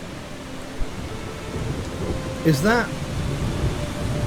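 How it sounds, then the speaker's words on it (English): Rain falls as a steady broadband hiss in the video game Eastshade, near the Nava border crossing, with a faint low rumble of thunder underneath; a voice speaks briefly partway through. "Oh, it's just started raining."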